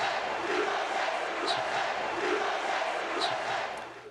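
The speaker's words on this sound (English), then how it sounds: "One at a basketball game in Missoula, Montana, brought a response from the crowd." Crowd at a basketball game in Missoula, Montana, reacting to protesters: a sustained, dense roar of many voices shouting and jeering, steady and loud throughout before easing slightly at the end.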